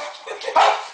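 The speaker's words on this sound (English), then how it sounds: "seen a fucking dog chase a shadow" A dog chasing its own shadow lets out a single close, sharp bark that swells and then trails off.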